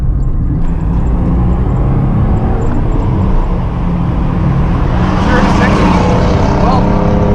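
A 1988 Pontiac Fiero Formula sports car drives along at speed, its engine droning steadily and growing louder and harsher toward the end amid road and wind noise.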